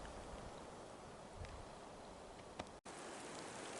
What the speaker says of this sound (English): of course it's raining again